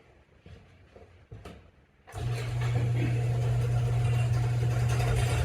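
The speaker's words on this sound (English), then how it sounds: "I'll start the engine back up" A 1965 Ford Thunderbird's engine with a 4100 Autolite carburetor cranks and catches after about two seconds of quiet shuffling, then settles into a steady, loud, close idle with a low drone.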